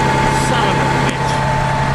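A Terex 72-51B engine runs at a steady idle nearby, a continuous low rumble with a constant drone, brief and unchanging, while a voice is heard over it.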